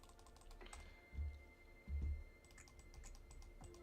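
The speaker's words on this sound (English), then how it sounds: "I wonder how loud my clicking is on" Computer keyboard keys click steadily at close range, a light patter of typing with a couple of duller thumps mixed in, quiet and with no speech.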